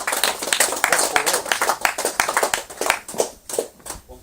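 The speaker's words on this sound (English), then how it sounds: "let's give a big round of applause to 3rd place in kart number 151" Crowd clapping for the third-place finisher in kart number 151 at a Daytona MotorSport kart race at Sandown Park, a mix of sharp close claps in an uneven rhythm that thins out toward the end.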